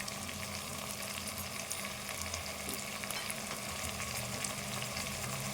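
Goat leg curry fries in a pan as tomato goes in, a steady close sizzle with faint stirring scrapes throughout, no voices.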